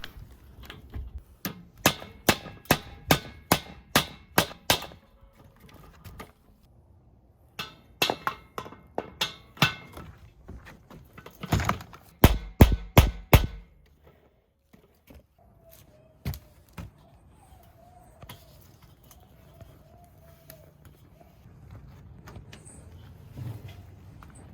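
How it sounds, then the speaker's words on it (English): A hubcap is tapped onto a Weber Original Kettle 22 grill wheel: a series of sharp metallic taps in quick bursts, several rapid strikes at a time, then quieter handling noises afterward. "put the wheel on the rod and gently hammer on the hubcap"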